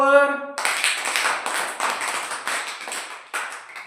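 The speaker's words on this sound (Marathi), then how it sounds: "छान, टाळ्या वाजवा." Children clap their hands together during a maths lesson, a burst of quick, uneven claps right after a brief voice, fairly close and loud, tapering off in waves.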